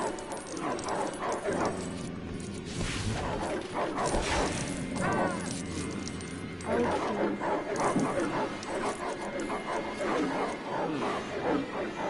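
Dog barking and yipping in a Harry Potter video game, a run of sharp barks and whimpers over busy game music and sound effects, with a voice talking over parts of it.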